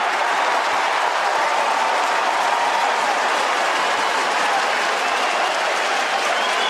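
Loud, continuous roar from the stadium crowd at the SCG as the Sydney Swans play Fremantle, sustained cheering after a running bounce, dense and unbroken throughout.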